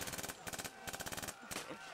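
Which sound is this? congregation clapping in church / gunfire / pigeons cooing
gunfire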